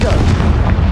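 Confringo spell explosion in the video game Hogwarts Legacy: a loud, booming blast with heavy low rumble filling the whole moment, close and forceful.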